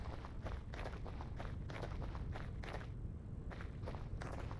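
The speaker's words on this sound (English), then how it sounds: "can you hear some of the crunchy gravel footsteps?" Crunchy footsteps on gravel in a survival video game, a steady run of evenly spaced crisp steps that pause briefly midway and then resume, clear and alone without talk.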